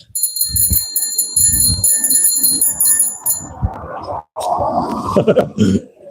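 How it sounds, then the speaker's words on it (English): A bicycle bell on an e-bike rings in a bright, sustained chime that rings out over road and wind noise, then fades as rumbling motion continues. "The bell you just heard is on my bike."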